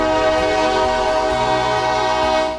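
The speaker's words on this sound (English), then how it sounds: "starting with the commuter rail and Conrail freight trains passing through" A commuter rail train or a Conrail freight train passes close by, its loud sustained horn blaring over a steady rumble that fades slightly at the end, with no talk.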